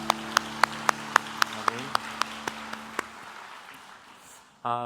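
A congregation at a Sunday morning university church service claps in a steady unison rhythm over a sustained organ chord. About a dozen evenly spaced claps gradually fade, and a voice begins speaking at the very end.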